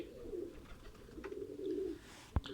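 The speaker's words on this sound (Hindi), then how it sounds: "और ये कबूतर है, ये देख लें माशाल्लाह से।" A teddy pigeon coos softly in low, rolling bursts, close but faint, with a brief sharp tap near the end.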